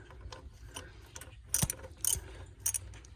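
A hand ratchet turns out the bolts on a thermostat housing of a 6.5L diesel engine. Faint, sparse clicking comes through close up, with a few sharper, louder bursts of ratcheting.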